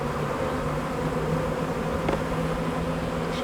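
A close, unbroken buzz of honey bees fills the air throughout a hive inspection, with a brief clack midway and no talking.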